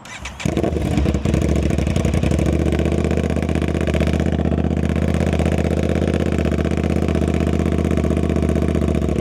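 An Aprilia RS660 sport motorcycle fitted with an SC Project CRT exhaust cranks and fires, then settles into a deep, steady, bassy idle that runs loud and unbroken to the end.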